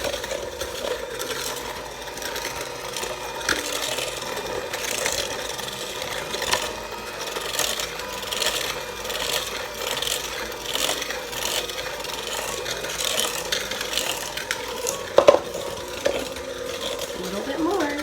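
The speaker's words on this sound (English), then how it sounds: "I'm going to turn it on and mix it up." An electric mixer churns chocolate chip cookie dough in a bowl with a continuous grinding, rubbing whir and a few knocks near the end, and faint voices now and then.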